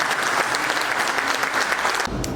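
An audience at a leadership development program applauds with steady, dense clapping throughout, fairly loud, cutting off abruptly near the end.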